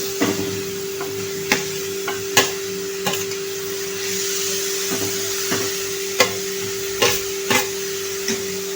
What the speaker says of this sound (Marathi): आता आपण परतून घेऊया मुळा छानपैकी।